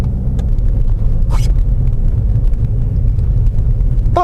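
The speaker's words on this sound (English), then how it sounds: "I'm about to get overtaken by a truck. He's going way too fast for road conditions." A truck overtakes at speed on a snowy road, its loud steady rumble filling the whole stretch from inside a vehicle, with a brief hiss partway through and a short tonal squeal at the end.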